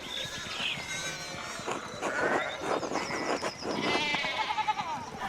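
Sheep in the video game Pentiment bleat several times, close and fairly loud, their wavering cries overlapping in a short cluster with no talk.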